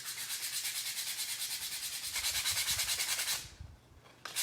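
Coarse grit sandpaper rubs over a chunky painted wood shape in quick, even back-and-forth strokes, close and scratchy, then pauses and briefly resumes.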